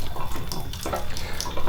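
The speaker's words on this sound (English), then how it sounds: "you can see it's dribbling a bit of water" Water dribbles from a tank pipe outdoors in a garden, a close, continuous splashing trickle with uneven flutters throughout.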